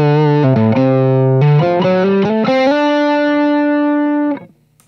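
An electric guitar plays through an AMP1 amplifier with a distorted tone. Loud close notes move through a short riff, then one note is held and rings out before fading near the end.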